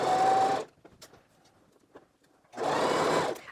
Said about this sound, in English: And then just sew down the dart, taking out the pins as we go.